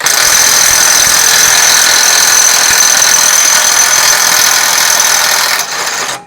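A Tanzu TZ-IW 1000 cordless impact wrench, a few months into personal use, runs continuously at full power with a loud, dense mechanical whine and rattle, steady throughout before tapering off at the very end.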